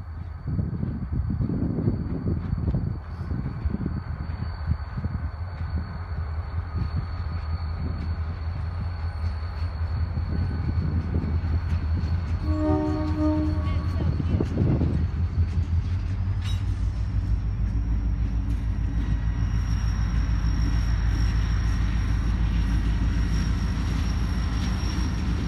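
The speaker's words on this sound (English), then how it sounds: "one of their trains happened to be coming by" A Lake State Railway freight train rolls past, a continuous loud low rumble of wheels and cars lasting the whole stretch, with a short horn-like tone partway through and a rising steady whine later.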